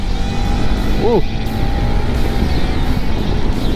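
A 2021 Honda CRF 250 Rally motorcycle accelerating at about 4000 rpm to overtake in traffic: a loud, close engine drone that rises in pitch briefly, over steady wind and road noise.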